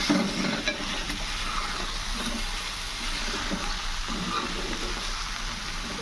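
Cashew paneer curry sizzles steadily in a pan as it is stirred, a constant close frying hiss with soft scraping, no voices.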